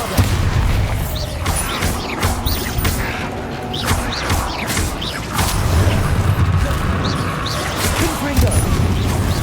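The Bombarda spell goes off in the Hogwarts Legacy video game amid continuous dense combat: loud booming blasts, crashes and impacts layered over a rumbling low-end bed, with occasional game voices mixed in.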